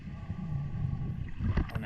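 Underwater during a spearfishing descent in green water, a boat motor passes overhead as a low, rumbling drone with a faint whir and a few gurgling bubbles, muffled and moderately close.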